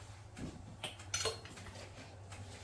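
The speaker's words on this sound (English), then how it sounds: "I think I'll just use a slotty spoon to get some okra down in there" A slotted spoon scooping okra into glass canning jars during water-bath canning, giving a few light metallic clinks and scrapes close by in an otherwise quiet kitchen.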